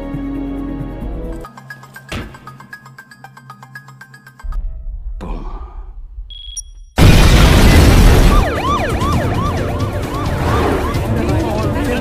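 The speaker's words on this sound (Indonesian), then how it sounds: "Akibat ledakan besar terjadi" A big blast in an action scene from the film Don 2: tense effects and a siren-like wail give way to a sudden, very loud explosion, followed by a roaring, rumbling aftermath.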